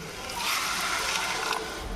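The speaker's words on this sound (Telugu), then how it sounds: "కొంచెం మగ్గింది కదా, వాటర్ పోసేసుకుందాం" Water pours into a pan of simmering potato egg kurma, a brief, continuous splashing rush heard close and fairly loud.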